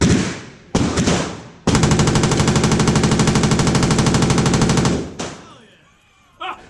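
A machine gun fired at a Las Vegas shooting range: a short opening burst, then one long rapid sustained automatic burst of about three seconds, loud and close, ending abruptly.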